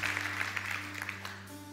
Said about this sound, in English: can we clap our hands for what the Lord has done today in this service?